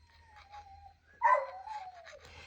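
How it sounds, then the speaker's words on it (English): A dog gives a drawn-out whining howl, then a sharper, louder bark-like yelp, with whimpering tones trailing off over a low steady hum. "I apologize for that dog."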